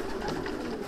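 A racing pigeon coos close by in soft, rolling low notes that run through the whole moment, with no one speaking.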